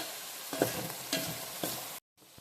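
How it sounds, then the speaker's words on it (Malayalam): A curry with turmeric being stirred in a hot pan, with three rhythmic scraping strokes over a steady sizzle, then a brief silence and the sizzle returning. "ഇളക്കി കൊടുക്കണം."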